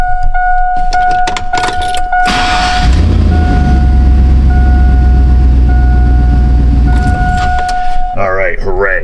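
A GM truck's engine idles with a steady rumble and chime tones, then shuts off, followed by keys jangling and someone speaking briefly near the end.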